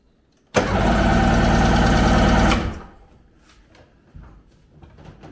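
A Seadoo GTX jet ski engine cranks and roars into life, a loud buzzing drone for about two seconds before it dies away, followed by faint clicks and rattles nearby.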